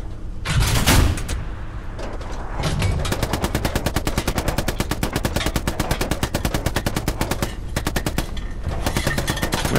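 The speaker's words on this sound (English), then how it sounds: "We're getting shot by a tank. It's a Lux." A Luchs light tank fires its machine gun in Hell Let Loose, sustained rapid bursts of gunfire hammering in a fast regular rhythm, loud and close, after a couple of heavier booms.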